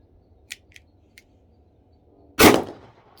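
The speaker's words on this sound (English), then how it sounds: "Loaded mag for the Taurus G2C, little compact. Already in. Firing." Taurus G2C compact pistol fires a single sharp, loud shot near the end, preceded by a few small metallic clicks and handling sounds, close by and with no talking.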